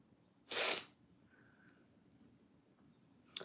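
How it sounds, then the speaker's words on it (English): A person with a pollen allergy gives one sharp, sneeze-like sniffle up close in a quiet room, followed by faint breathing and a small click at the end. "The sniffles are getting started now"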